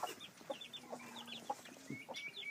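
A backyard homestead hen clucks in short, irregular bursts alongside chirping chicks and young turkeys, close and moderately loud with no talking.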